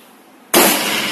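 A single shotgun blast fired one-handed at targets, sudden and loud, with a sharp onset and a long, bright, sustained tail after it.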